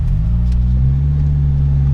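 A car drives along with a steady, loud, low engine rumble and road drone heard from close by, with no talking.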